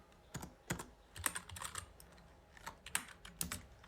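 Fingers typing on a computer keyboard, a close, quiet run of light clicks in short bursts with small pauses between them.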